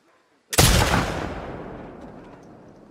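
A single loud, sharp gunshot cracks out after a brief silence in The Last of Us Part II, followed by a long, fading reverberant tail, with no voices.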